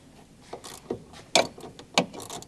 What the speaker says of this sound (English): So first we're gonna do the ground, which I'm gonna connect to the battery. You're gonna go up through here, and you're gonna take your 10 mil to do that.